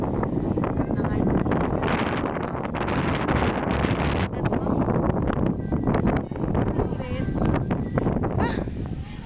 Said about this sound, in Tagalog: Ang hangin. Mahangin lang.